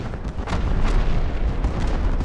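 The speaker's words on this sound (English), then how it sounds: "Here comes the torpedoes." Torpedoes explode against a ship in the naval combat game From The Depths, a loud, continuous rumble of overlapping deep booms and blasts.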